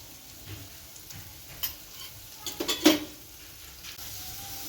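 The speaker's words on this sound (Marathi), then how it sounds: "तर आता बेसन पण मी परतून घेते मसाल्यात" Besan is stirred and fried into onion masala, for an onion bhaji made with whole onions, under a low, steady sizzle. Scattered spoon scrapes and a cluster of louder clinks against the pan come midway.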